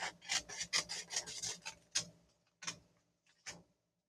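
Scissors cut paper log shapes for a campfire craft: quick, soft rasping snips in a busy run, then a few sparser, isolated cuts, close and quiet.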